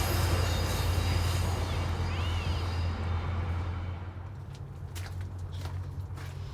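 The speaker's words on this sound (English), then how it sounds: "there is the front runner train" A FrontRunner commuter train rumbles past with a steady low drone, its noise easing slightly toward the end; a brief bird chirp cuts through early on.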